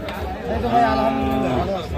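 A Sahiwal cow moos once in a long, low, drawn-out call, close by at a cattle market, with people chatting faintly in the background.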